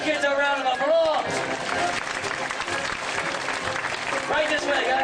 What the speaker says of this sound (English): And give these brave kids a round of applause!